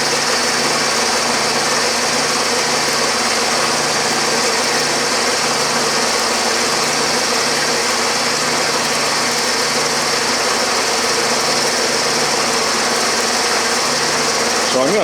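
A 6-inch Atlas lathe milling a slot gives a loud, constant machine whine with a steady motor hum and a faint repeating pulse underneath, running unbroken.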